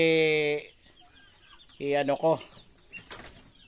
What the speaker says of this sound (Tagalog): Yan yung sisiw, walang balahibong liig.